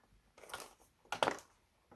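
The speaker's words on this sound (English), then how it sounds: "Sorry for the plastic rustling." Plastic packaging rustles and crinkles in two short bursts, the second sharper and louder, close by with no talking.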